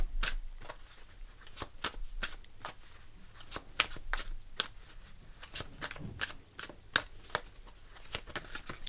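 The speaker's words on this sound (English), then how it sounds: "We'll pull a few cards to finish off the reading." Tarot cards are shuffled and pulled in steady quick riffles and flicks, a string of crisp close papery snaps over a soft background, with no talk.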